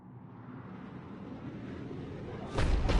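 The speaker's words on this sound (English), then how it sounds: "Looks like Cerberus got that cannon operational, Commander." A Cerberus cannon firing in the video game Mass Effect, a low rumbling build that breaks into a loud, booming blast near the end.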